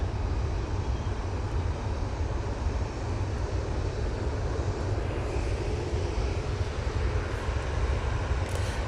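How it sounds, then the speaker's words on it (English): An ATR 72 turboprop arrives at Manchester Airport from Guernsey, a dense continuous propeller and engine drone at even, steady loudness throughout, close and full, with nobody talking over it. "So here's Irini ATR 72 coming in from Guernsey"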